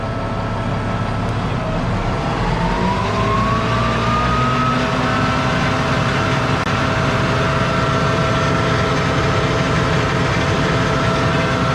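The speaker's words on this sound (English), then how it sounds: "I'm going to increase the RPMs up to our standard pressure, which should be 165." A diesel pump engine on a fire apparatus throttles up to raise its RPMs toward a preset 165 pressure, a steady loud drone whose pitch climbs and then holds level during a pretrip check.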